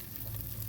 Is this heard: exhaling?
no